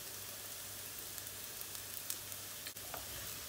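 Salted rice, about three cups with one and a half dessert spoons of salt, hisses and sizzles steadily in a pot as it is stirred, with faint scraping ticks and no talking.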